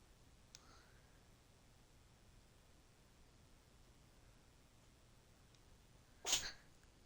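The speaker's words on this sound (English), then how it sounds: "My cat sneezed." A cat sneezes once, a short sharp burst near the end after several seconds of near silence and faint room hiss.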